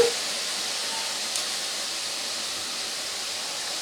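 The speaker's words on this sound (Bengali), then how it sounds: "এইভাবে পেঁয়াজটাকে একটু সময় নিয়ে ভেজে নিতে হবে হালকা বাদামি কালার হওয়া পর্যন্ত" Onions frying in a pan until light brown for a pomfret fish curry, a steady, even hiss of sizzling oil throughout with a brief louder crackle near the start.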